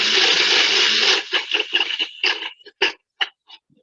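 A blender whirs loudly on an oat and peanut butter smoothie for about a second, then sputters in short choppy pulses that grow sparse and stop.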